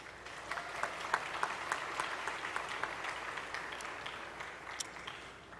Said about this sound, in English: And I ask for all of you a round of applause